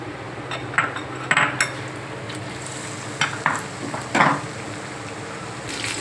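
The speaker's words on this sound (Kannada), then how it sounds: "ಇದನ್ನ ಇದ್ರಾಗ ಡಿಪ್ ಮಾಡಿ ಎಣ್ಣೆ ಒಳಗೆ ಕಾಯ್ದ ಎಣ್ಣೆ ಒಳಗೆ ಬಿಡೋಣ" Battered potato slices drop into hot oil and fry, producing a steady close sizzle with occasional sharper clinks and stirring scrapes from utensils against the pan.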